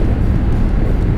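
BMW F850GS motorcycle engine pulling from about 2000 rpm out of a downhill hairpin, a steady low rumble under heavy wind noise, smooth and without surges.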